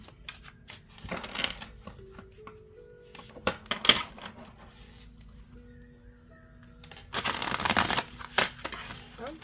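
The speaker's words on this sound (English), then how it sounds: "That one did not ripple very well. So let's shuffle one more time there." Tarot cards are shuffled by hand in short riffling bursts, with a brief one near the start, another a few seconds in, and a longer, louder ripple near the end, over a quiet room.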